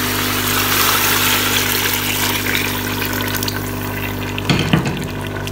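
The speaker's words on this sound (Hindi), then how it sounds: "मैंने 3 गिलास इसमें पानी डाला है" Three glasses of water poured into a cooking arbi (taro root) and meat curry, a loud, steady rushing splash over a constant hum, with a few clinks near the end.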